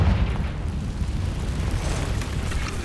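Confringo fire spell explosion in the video game Hogwarts Legacy: a dense, sustained low rumbling boom that rolls on without letup for the whole stretch, heavy and loud.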